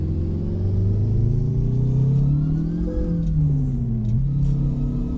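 A SCOT A2HD truck engine in American Truck Simulator rumbles deep and loud, its pitch rising and falling as the revs climb and drop through a gear change, with no talking.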